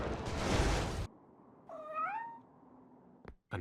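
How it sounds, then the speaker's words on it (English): In the Superman Returns video game a kitten gives a single clear rising-falling meow, following a loud burst of noisy game sound, then a quiet background and a brief click near the end. "Another kitten?"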